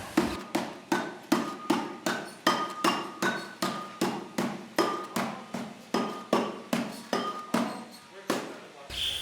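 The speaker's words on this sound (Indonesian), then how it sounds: "Setelah dihaluskan dilebarkan lagi pakai palu besi." An iron hammer strikes a metal gamelan piece in a steady run of about twenty sharp, ringing blows, evenly paced and close by, while a voice talks softly underneath.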